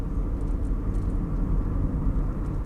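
A car drives toward a Galp petrol station in Portugal, heard from inside as a steady, close, low engine and road rumble with no talk.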